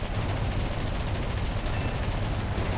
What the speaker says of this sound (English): was able to put a pretty good critical hit with the machine guns in on the P-51 there